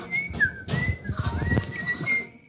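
A man whistles to call tame sparrows in the Philippines, sliding up and down in pitch in several short bursts, loud and close, over rustling and faint background noise.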